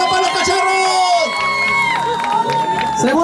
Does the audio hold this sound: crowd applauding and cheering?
yes